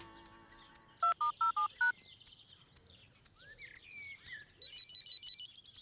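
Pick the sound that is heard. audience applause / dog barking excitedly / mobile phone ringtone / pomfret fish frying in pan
mobile phone ringtone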